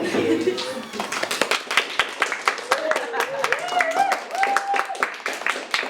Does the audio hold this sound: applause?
yes